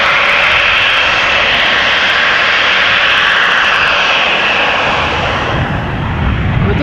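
A GE90 jet engine spools up on a parked airliner at Amsterdam Schiphol Airport, a loud, steady broadband roar that holds throughout and eases slightly near the end, with no voices.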